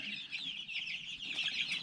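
A flock of backyard chickens clucks softly near their coop, a faint continuous mix of overlapping chatter and murmurs with no voices.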